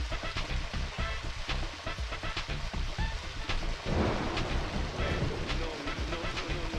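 Rain falls steadily in the video game DPO, with a low rumble of thunder rolling in partway through; the downpour stays dense and continuous throughout without speech.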